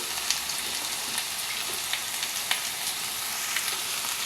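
Sambar onions and carrot pieces sauté in hot oil with a steady, dense sizzle and crackle that carries on without a break, close and even, broken only by a few faint ladle touches, and no one speaks.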